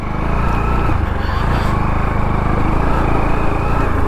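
Bajaj Pulsar NS200 motorcycle pulling away, engine rumbling loud and close with a steady, throaty drone and no voices over it.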